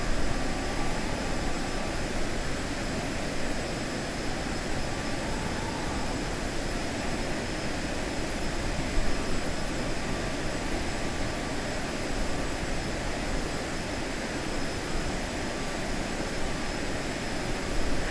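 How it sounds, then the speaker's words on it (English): A jet airliner approaches in Microsoft Flight Simulator, a steady broadband engine whine and airflow hum holding at an even, moderate level for the whole stretch. "We got another plane coming in on approach"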